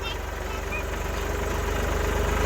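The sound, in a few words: tractor engine idling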